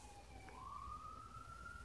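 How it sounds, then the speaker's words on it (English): An ambulance siren rises in a thin, faint wail from outside, distant and quiet beneath a low background hum. "you can hear ambulances going by"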